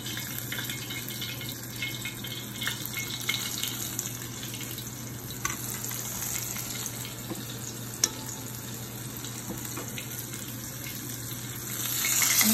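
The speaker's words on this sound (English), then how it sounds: "just brown our meat on the skillet" Veal and pork sizzle and fry in a skillet with a steady hiss, close and constant, swelling slightly louder at the end, without any talk.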